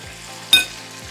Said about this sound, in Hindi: ये अदरक लहसुन का पेस्ट चला गया।